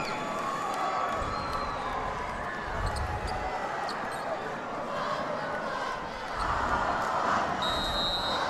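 A gym crowd at a high school state tournament semifinal basketball game cheers in a steady roar, with ball bounces, sneaker squeaks and whistles, while a commentator talks over the noise.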